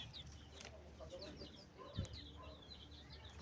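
Chickens clucking nearby in a series of short, overlapping calls, with one low thump midway and a faint background hum.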